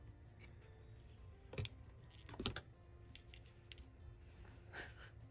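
Scissors cutting paper for a binder-ring junk journal, quiet close snips and rustles in short bursts with a couple of louder crisp cuts, no talking.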